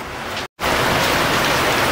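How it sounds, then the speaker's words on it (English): Heavy rain drumming steadily on a boat, a loud dense hiss that cuts out briefly and returns, with no voices. "hopefully you guys can hear me over the rain."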